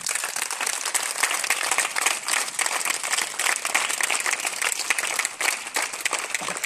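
A church congregation breaks into sustained, dense applause to acclaim Jesus, a full roomful of clapping that holds steady and loud throughout.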